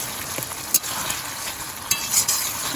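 Ground cumin and onion spice paste drops into chicken sizzling in a frying pan for Bengali chicken kosha, giving steady close frying hiss with a few brief stirring scrapes and clatters.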